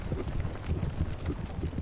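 Several horses pulling a racing chariot clatter along in a steady, overlapping clip-clop of hooves, fairly close and continuous, with no talking over it.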